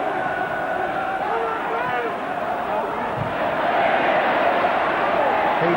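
Dense football crowd at an Everton v Liverpool FA Cup fifth round match, a steady broad roar of thousands of voices with rising swells of noise, loud and continuous throughout.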